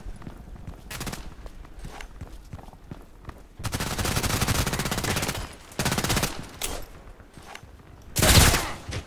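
Glock 18 fully automatic fire in the shooter game Contract Wars, rapid bursts of close, loud gunfire in several long sprays separated by quieter gaps with footsteps.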